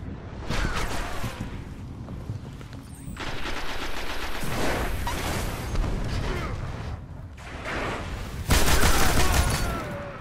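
Sustained machine gun fire from a video game, dense rapid bursts with brief pauses, loud and close, rising to a heavier burst near the end.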